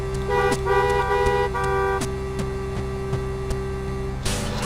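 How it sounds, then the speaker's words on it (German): A car horn in the video game GTA San Andreas sounds in a run of short, loud honks, with steady engine hum beneath and a rougher burst at the end. "Sollen wir hupen?"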